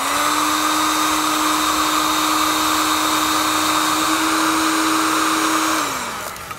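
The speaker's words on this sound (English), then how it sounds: "what we're gonna do is grab a heat source and heat up the ends to seal them up." Heat gun blowing steadily to shrink the ends of heat shrink butt connectors during vehicle trailer wiring harness work. A loud, close, constant whooshing hum with a steady motor tone winds down at the end.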